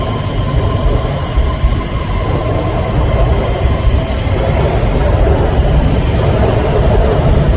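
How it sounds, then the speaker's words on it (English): Beijing Subway Line 19 train pulling out of a station, a loud, steady low rumble and hum of the moving cars with rail noise and faint high whine, continuous throughout with no talk. "So the train leaving the station."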